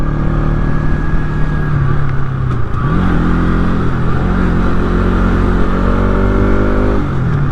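A motorcycle rides along a road on a trip from Lahan to Routa, its engine droning loud and close throughout, with the pitch shifting as it accelerates, under steady wind rumble.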